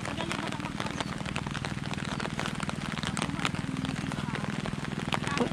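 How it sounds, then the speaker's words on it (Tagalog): Rain falls steadily at a dragon fruit farm, a constant crackling patter of drops on a surface with scattered louder splashes. "Sarap guys, umuulan."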